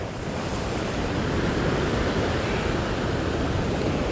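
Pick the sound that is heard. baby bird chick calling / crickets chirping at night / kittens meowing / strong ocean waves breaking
strong ocean waves breaking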